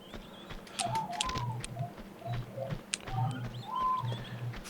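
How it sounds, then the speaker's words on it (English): Seagulls call in Tomb Raider: Anniversary, a scatter of short, high cries over a steady low ambient hum, moderately loud and repeating irregularly across the scene with no one speaking. "I hear the seagulls"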